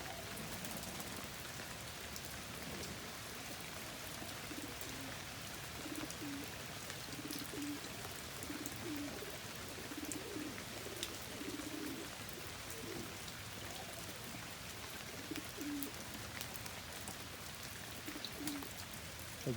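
Fantail and homing pigeons coo softly in short repeated phrases, low and somewhat distant, under a steady hiss of heavy rain falling on surfaces.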